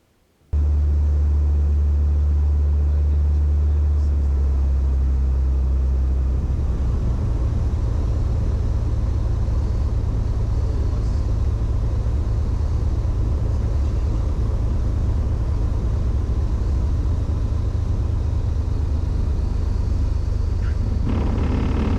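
Stinson 108-2 tailwheel airplane taxiing, a steady loud engine drone with low rumble that holds throughout after an abrupt start, close and continuous with no voices.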